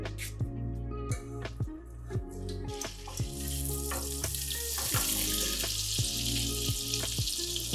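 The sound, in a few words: butter melting and sizzling in sesame oil in a kadai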